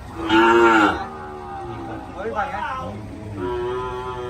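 Cattle mooing at a cattle and buffalo market in Tak, Thailand: a loud close moo followed by two more calls, with someone talking over the animals.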